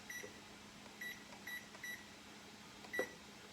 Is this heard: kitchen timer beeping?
yes